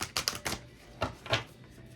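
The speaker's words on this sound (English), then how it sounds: "Let me try to shuffle this real quick." A deck of tarot cards is shuffled in quick, crisp riffling bursts, a cluster of rapid flicks followed by two more separate snaps, close and quiet.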